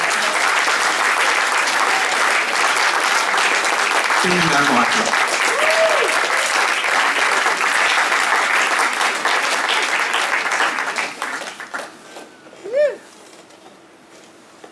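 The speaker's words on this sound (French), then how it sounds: "on peut l'applaudir très fort." Loud applause from an audience at a live concert fills most of the stretch, with a voice speaking over it. The clapping then tapers off into scattered claps near the end.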